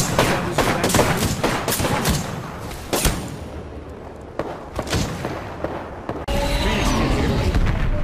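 Gunfire in the video game Apex Legends: a rapid series of loud, close shots with several sharp cracks, brief pauses between bursts, and a dense rumble of gameplay noise at the end.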